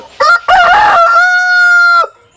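A rooster in a backyard coop of country hens lets out one loud, close crow, a short opening burst followed by a long drawn-out sustained note that cuts off cleanly.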